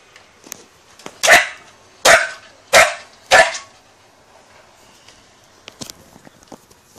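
Dogs bark while being weighed on a bathroom scale at home: four loud sharp barks in quick succession near the microphone, followed by softer clicks, shuffling and small thumps.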